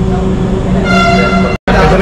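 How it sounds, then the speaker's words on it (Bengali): A Dhaka Metro Rail train's horn sounds in sustained harmonic blasts as another train crosses, loud over steady cabin hum, cutting off abruptly near the end. "এখানে অ্যাকচুয়ালি আরেকটি ট্রেন ক্রসিং হচ্ছে, সেজন্য এখানে দাঁড়িয়েছে।"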